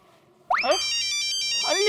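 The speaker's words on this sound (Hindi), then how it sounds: "किसका फोन है?" A phone ringtone bursts in suddenly in a Hindi TV sitcom scene, a bright chirpy electronic melody with rising warbling tones that repeats, loud and near.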